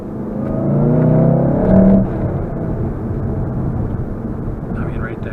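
A Volkswagen Golf R's turbocharged engine is heard from inside the car, with a loud, rising rev under hard acceleration that peaks after about two seconds and then settles into a steady drone.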